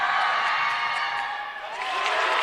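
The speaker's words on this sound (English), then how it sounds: "The loudest I've heard this Coyote crowd all night." A home crowd of Coyote fans roars and cheers at a women's college basketball playoff game, a loud sustained wall of voices and whoops that dips briefly and swells again.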